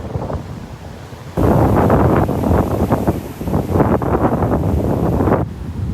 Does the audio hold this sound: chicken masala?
no